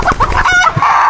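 A heritage native chicken in the Philippines clucks at close range: a quick, loud burst of several throaty clucks ending in a short, drawn-out squawk.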